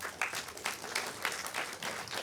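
Audience applause at a town hall meeting, a steady wash of many hands clapping at moderate volume with no one talking over it.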